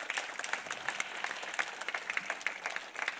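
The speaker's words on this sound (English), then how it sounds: "another round of applause for finding this tiny" Audience applause at an evening talk on NASA's New Horizons mission to Pluto: dense, steady clapping from a full room that holds for the whole stretch without any voices.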